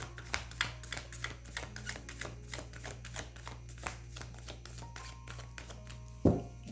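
Tarot cards being shuffled by hand, giving a rapid run of crisp, close riffles and flicks at a busy, uneven rhythm, closing on a single louder knock or tap, with no talking.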